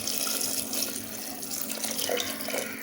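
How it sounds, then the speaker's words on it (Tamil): Steady stream of water running and splashing into a pot while making sambar, a close, continuous pour with a faint hollow ring and no talking. "இப்போ கொஞ்சம் தண்ணி ஊற்றிக்கலாம்."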